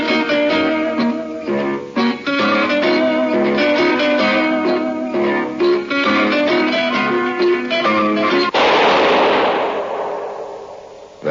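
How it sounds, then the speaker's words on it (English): In a radio drama, zither music plays loudly and then abruptly gives way to a single booming gunshot that decays into a long, rumbling tail. "That was the shot that killed Harry Lime"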